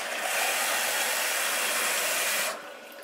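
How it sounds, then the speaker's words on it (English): Water pours steadily into a cup holding tomato seeds, a loud, close, continuous rushing splash that stops abruptly near the end and leaves a faint hiss behind. "And then refill the cup with water."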